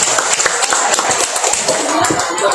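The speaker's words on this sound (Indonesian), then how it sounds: "Monggo beri tepuk tangannya sekali lagi." An audience claps at an evening community gathering marking Indonesia's 80th Independence Day in Magelang. Dense, fast applause continues without a break, close and fairly loud.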